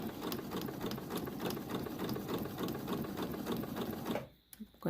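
A sewing machine stitches a sharp corner on a fabric project. A fast, steady mechanical whirring chatter runs close up for about four seconds, then stops abruptly, leaving a few faint clicks.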